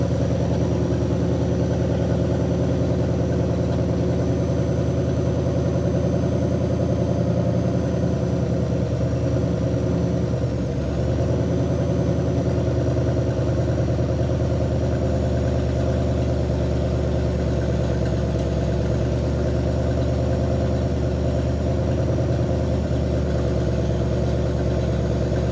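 A 1960 Pontiac Catalina convertible's V8, freshly tuned after sitting forty years, idles steadily and loudly up close with a deep, even rumble and a slight waver midway, with no voices over it.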